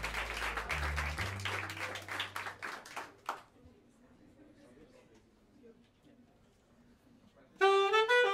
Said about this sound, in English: please give a big round of applause to Charles Owens, everybody